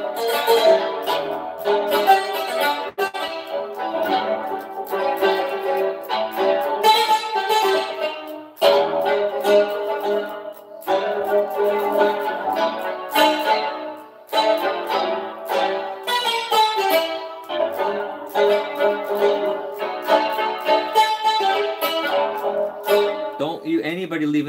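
Mallet tone on a Roland GM-800 synth module played as a blues solo, a long busy stream of struck notes with bends and runs, a few brief gaps, steady and close with no voice.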